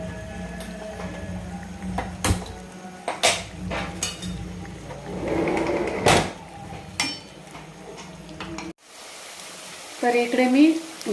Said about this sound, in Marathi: चार चमचे तेल घेतलेलं आहे आणि त्याच्यामध्ये दोन मिडियम आकाराचे कांदे बारीक चिरून टाकलेले आहेत